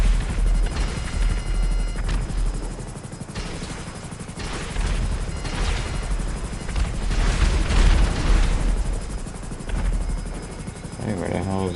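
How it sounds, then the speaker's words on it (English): A helicopter flies in GTA 5, its steady rotor drone filling the scene while gunfire and booms break out intermittently and voices talk over it. "I am a whiz with every helicopter, but this thing, man, it is a nightmare to fly."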